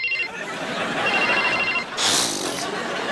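A telephone rings at home, its electronic trill sounding in short repeating bursts, loud and close, with a brighter burst near the end.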